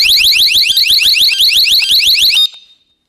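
A small Yale wireless security alarm running on four AA batteries warbles loudly and piercingly in rapid repeating pulses for over two seconds, then cuts off abruptly and leaves a brief fading tail.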